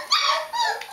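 Three-week-old White Shepherd puppies whimper in short, high, close-up whines, with two or three quick cries overlapping within about a second.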